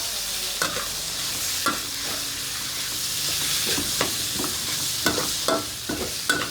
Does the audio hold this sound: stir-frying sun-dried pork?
yes